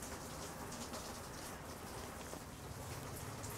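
Steady wind-driven rain under a patio, a dense continuous hiss of drops beating on surfaces, close and constant with no talk.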